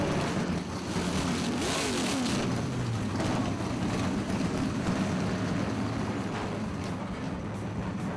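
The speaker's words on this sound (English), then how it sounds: "Gentlemen, start your engines." Race car engines at the San Jose Grand Prix fire up and rev together, a dense, loud, continuous mechanical roar with rising and falling pitch sweeps, no talking.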